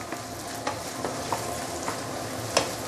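Pork and onion frying in oil, a steady dense sizzle with occasional light stirring clicks and scrapes, close and moderately loud, no voices.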